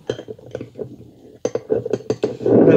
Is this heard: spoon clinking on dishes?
yes